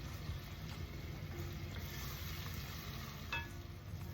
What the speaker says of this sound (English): I've just added some chopped up bacon. Yeah? So we'll let that fry off a bit.